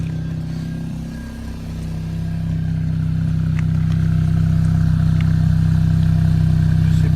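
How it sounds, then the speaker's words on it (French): Mini Cooper R53 JCW exhaust, a loud steady idling drone with a deep low hum that builds slightly and holds, close by and without talking. "je vais te montrer l'échappement"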